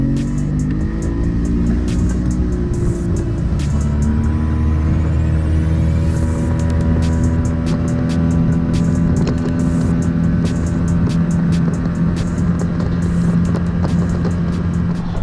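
A boat's outboard motor runs steadily out on the water during a test ride, a loud, continuous engine drone with shifting pitch and no talking.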